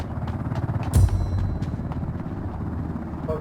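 A helicopter in the game Ring of Elysium gives a steady low rotor thrum with faint rhythmic beating, heard at a distance under background game sounds, with one sharp clack near the start.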